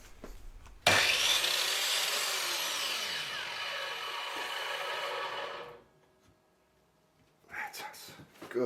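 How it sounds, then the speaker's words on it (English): Wood being sawn to trim the end of a piece for a tight fit while making a knife block, a loud continuous rasping saw stroke lasting about five seconds, then a pause and a brief start of further cutting. "I'll proceed to keep trimming the end off till we have a tight fit"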